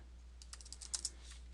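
Quick bursts of keystrokes on a computer keyboard as a short word is typed into an Excel VBA code editor, about a dozen close, crisp clicks over a low steady hum, with no talking.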